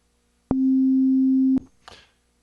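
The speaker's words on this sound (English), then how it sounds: "treats each operator as just a straight up oscillator set to a sine wave" A pure, steady sine tone from a single FM synthesizer operator running as a plain oscillator holds at constant pitch and level for about a second, starting and stopping abruptly, followed by a brief faint rustle.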